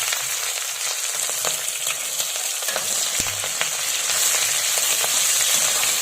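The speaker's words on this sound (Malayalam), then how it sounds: "അതിനുശേഷം നമ്മൾ അരിഞ്ഞ് വെച്ചിരിക്കുന്ന സവാള ഇട്ട് കൊടുക്കാം." Sliced onions and chili sizzle steadily in hot oil for a rabbit roast, a continuous crackling fry with occasional stirring clatter, close and fairly loud, no voices.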